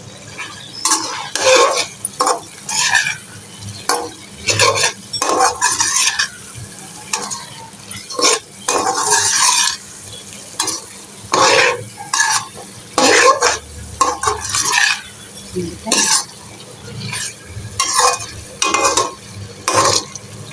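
Liver (kaleji) with spices fries in a pan as a utensil stirs it in quick, rhythmic bursts of scraping, over a steady sizzle, up close and with no talking.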